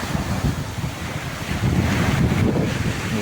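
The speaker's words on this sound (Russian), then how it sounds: "Кошмарные волны. Ветер просто ураганный." Strong, gusting wind batters the microphone on a lakeshore while huge waves crash and surge, with a loud, rough rumble that swells midway and no voices present.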